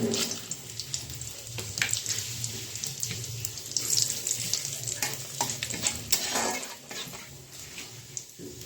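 Bay leaf and panch phoron sizzle in hot refined oil in a kadai, a steady, fairly loud broadband hiss with scattered crackles throughout.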